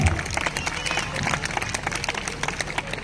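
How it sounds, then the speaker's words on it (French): Audience applause at a carnival opening ceremony in Basse-Terre, a steady patter of many hands clapping outdoors, moderately loud and continuous for a few seconds. "monsieur Gary Bosque, que je vous demande d'applaudir s'il vous plaît."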